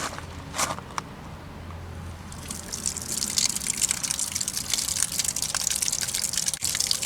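Water from a faucet gushes and splashes over a Samsung washer inlet valve as it is rinsed out, a steady close rush that grows louder and fuller partway through, with a few light clicks and handling knocks.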